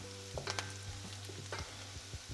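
Onions and garlic gently frying in a pan, a soft continuous sizzle with a few light stirring taps, quiet and close with no talk.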